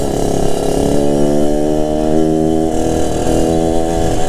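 Motorcycle engine with a B2M racing exhaust revving hard and steadily, a loud, raspy, buzzing roar that holds high and rises slightly throughout, close up with no talking.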